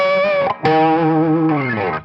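Electric guitar harmonics from a part of a song ring out as bright, sustained bell-like tones washed in reverb and delay, with a brief gap near the middle before a second chiming note swells and decays.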